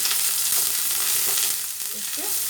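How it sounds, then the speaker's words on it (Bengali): Ground bottle gourd leaf paste fries in a pan while being stirred, giving a steady, close sizzle with faint scrapes throughout, no voices. "একটু নেড়ে নেব।"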